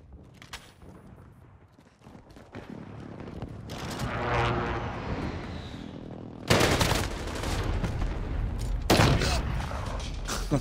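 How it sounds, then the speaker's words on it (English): Call of Duty Modern Warfare multiplayer match with gunfire bursts and loud sharp blasts from an enemy precision airstrike, aircraft rumble building underneath, dense and close with repeated loud impacts. "Enemy precision airstrike. Take cover."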